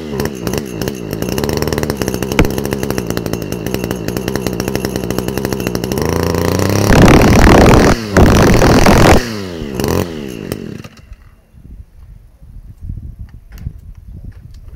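An Echo SRM250si brushcutter's two-stroke engine runs roughly and cannot hold idle, buzzing raggedly and then surging into loud revs. It sputters down and nearly dies before giving a few weak, uneven bursts. The sound is close, with no talk.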